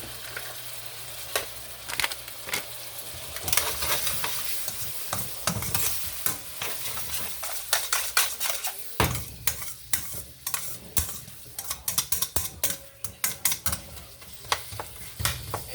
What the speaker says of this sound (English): And that ground beef's breaking down.